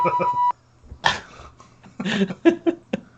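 Short electronic censor bleep tones cut in between bursts of talk, a clean beep near the start followed later by a couple of brief pinging beeps amid muffled voices.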